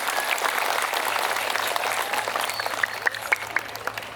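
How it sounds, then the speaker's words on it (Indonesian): A crowd at an evening religious gathering claps steadily, with a few sharper individual claps standing out near the end and a low hum underneath. "Tepuk tangan untuk teman-teman kita di Portugal."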